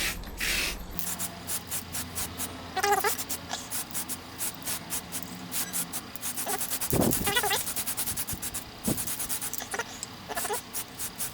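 Cheap matte black spray paint hissing from an aerosol can onto Honda CB450 motorcycle parts, in short repeated bursts with scraping and rubbing sounds, close to the microphone.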